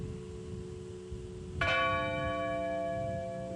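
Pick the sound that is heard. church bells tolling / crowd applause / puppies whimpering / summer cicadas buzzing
church bells tolling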